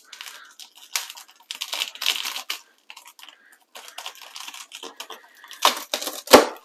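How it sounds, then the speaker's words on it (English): A knife crunches through the crispy roasted skin of a Chinese-style pork belly in a series of sharp, crackling bursts, loud and close, ending with a harder chop. "Now it's time to cut the pork belly."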